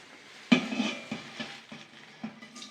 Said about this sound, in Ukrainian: Я маю перекласти все сюди з миски